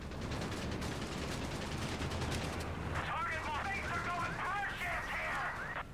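Strafing run in Company of Heroes 3 during a 4v4 match: dense, continuous rattling gunfire and bursts fill the scene, later giving way to higher whining mechanical sweeps, all loud and steady.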